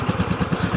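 A motorcycle engine runs close by, a rapid, steady putter with an even thumping rhythm, very short.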